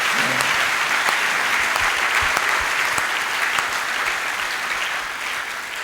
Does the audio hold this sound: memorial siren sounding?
no